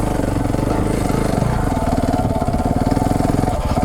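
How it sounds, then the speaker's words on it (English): KTM 690 Enduro single-cylinder dual-sport motorcycle engine lugging at low revs on a late-summer trail ride in Canada, a steady close, loud rumbling chug that continues without a break. "See how the engine lugs down?"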